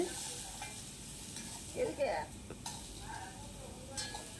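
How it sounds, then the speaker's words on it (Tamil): Soft sizzling from a pan as bottle gourd is stir-fried, with brief scraping stirs of a utensil, quiet and close. "ரெண்டு தக்காளி அதையும் கட் பண்ணி வச்சு அதையும் இதோடு சேர்த்து வதக்கணும்"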